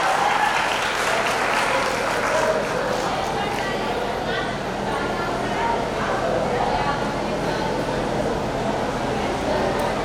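A crowd at a vocational junior college event in Kalwakurthy gives loud, sustained applause to student performers. The dense clapping fills the whole stretch without a break, with cheering voices mixed in.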